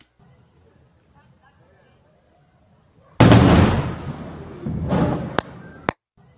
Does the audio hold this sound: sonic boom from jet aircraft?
yes